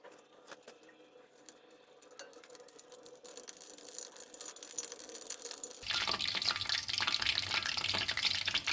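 Sumedang tofu dropped into hot frying oil, quiet at first and then bursting into a loud, dense sizzle as water in the tofu boils off, steady and close with no talk.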